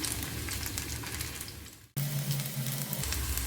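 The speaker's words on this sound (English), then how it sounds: "So the potatoes are almost fried golden brown." Baby potatoes fry in hot oil, giving a dense, steady sizzle and crackle close by, briefly cut off and then resuming at full strength.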